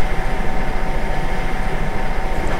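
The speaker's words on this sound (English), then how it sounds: "The ICE3 is a family of the high-speed trains of the German Bahn, Deutsche Bahn." An ICE3 high-speed train in Train Simulator 2013 runs with a loud, steady, dense roar and rumble that stays even throughout, with no voices over it.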